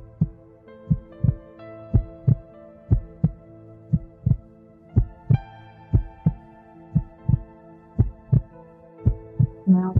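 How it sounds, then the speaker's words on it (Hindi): A loud, steady heartbeat thumps about sixteen times in ten seconds, each beat a distinct close pulse over a soft, sustained tonal drone. "मुझे अपने दिल की धड़कन सुनाई दे रही है।"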